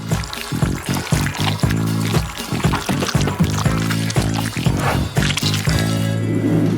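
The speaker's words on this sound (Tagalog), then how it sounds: "Ibuhos natin ang noodles." Sweet candy noodles made from Skittles are poured into a dish, giving a run of loud, close, wet squishy plops and slithers.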